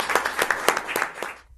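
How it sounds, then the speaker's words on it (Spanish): Short burst of audience applause at a neighborhood storytelling event in Guatemala City, with a few distinct claps standing out before the sound cuts off abruptly. "Por favor, un aplauso para esa historia tan linda."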